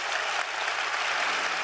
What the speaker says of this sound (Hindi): तो एक बार जोरदार तालियां हो जाए सबके लिए